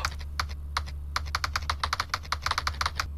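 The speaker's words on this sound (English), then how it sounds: "Is there a typing sound? There it is!" Quick bursts of keyboard typing from the video game KinitoPET, a steady clatter of key clicks in uneven rhythm over a low background hum, with no talking.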